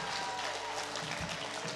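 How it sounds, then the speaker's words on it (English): A church congregation claps together in a steady wash of applause, moderately loud and filling the room, with no voices standing out. "Give the Lord a big hand clap right now."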